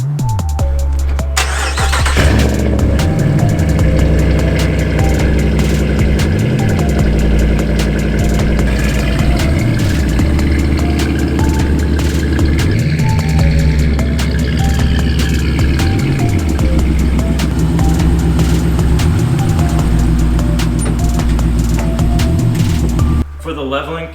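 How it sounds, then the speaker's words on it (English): A Ram 1500 pickup's engine cranks and fires on a cold start, then settles into a loud, steady idle with a rhythmic low pulsing, close by and with no one talking over it. "Alright guys, we're going to get a little cold start today"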